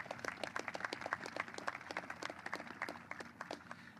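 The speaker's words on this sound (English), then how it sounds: "So how about a round of applause for Chaplain Black?" Scattered clapping from a modest audience at a US Navy submarine commissioning ceremony in Wilmington, Delaware: distinct individual claps in an uneven, lively patter, fairly soft and with no voices.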